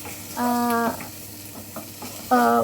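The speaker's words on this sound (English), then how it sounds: "Now I am adding boiled potatoes. Mix everything" Boiled potatoes are stirred with spices in a pan for a potato curry, giving close sizzling and scraping with two short, squeaky tonal scrapes from the utensil against the pan.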